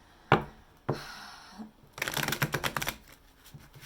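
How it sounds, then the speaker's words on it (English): Tarot cards handled close up, with two sharp taps and a brief slide, then a quick riffling flutter of cards that fades to quiet, all soft and without talk. "I'm going to give it a couple of shuffles for you."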